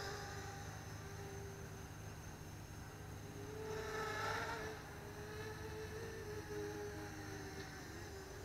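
A neighbor's car passes along a residential street, a soft whooshing swell that builds and fades around the middle of a quiet, steady background hum.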